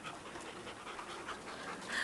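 A new dog, tied up and jumping about outdoors, pants rapidly and steadily, close to the microphone, over two seconds with no speech.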